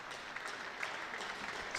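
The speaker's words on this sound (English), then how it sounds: "It's a good round of applause." Spectators at a Hampshire versus Warwickshire County Championship cricket match applaud Ben Brown in a faint, steady, distant patter of clapping that holds evenly throughout.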